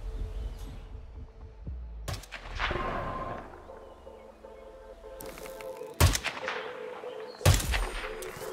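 Sniper rifle fire in the stealth game Hitman 2: Sniper Assassin, Himmelstein level, with three sharp booming shots spaced several seconds apart over a quiet ambient backdrop, each with a short ringing tail.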